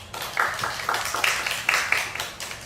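Audience applause welcoming a speaker onto the stage at a testimony gathering, a moderate crowd clapping steadily for a few seconds with no voices over it.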